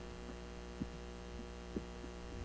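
An electric fan hums faintly and steadily in a quiet room, a low, even electrical drone with a couple of soft thumps in the background.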